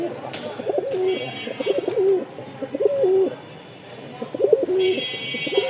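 Pigeons in breeding condition coo repeatedly from a small birdcage, close and fairly loud, with a steady rhythm of rolling calls.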